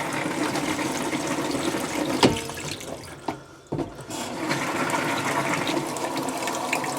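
Thetford Aqua Magic Galaxy RV toilet bowl filling with water after its outer pedal is pressed: steady rushing water, a couple of brief clunks near the middle, then continued filling.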